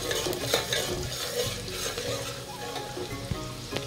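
Rice stirred in a frying pan, continuous scraping and sizzling close up, with occasional sharper knocks of the utensil against the pan.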